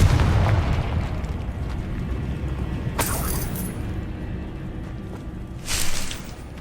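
Confringo spell blasts in the Hogwarts Legacy video game: two bright bursting explosions a few seconds apart, the second stronger, over a steady low rumbling game background.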